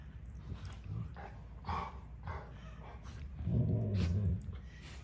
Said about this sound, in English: These are Anthony's two dogs, Miracle and Mr. Miracle.